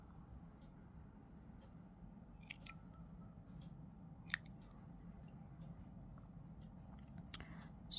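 Scissors cutting crochet yarn while making a small crochet flower pot: a few faint, sparse snips and clicks over a low, quiet room hum, with one sharper snip standing out.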